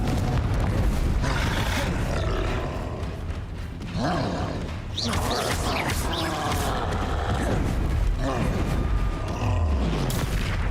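In Hogwarts Legacy combat, the fiery Confringo spell is cast amid a loud, continuous wash of game effects: rumbling booms, whooshes and crackling impacts.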